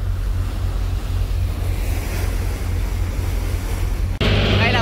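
Loud, steady roar of sea waves and gusting wind at a clear blue seashore, a continuous rushing wash with a sharper burst of noise near the end.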